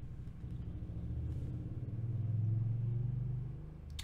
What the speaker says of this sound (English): Someone's got a loud truck.